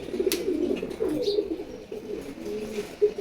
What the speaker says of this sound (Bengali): আমার খুবই প্রিয় একটা লাল চুল্লি কবুতর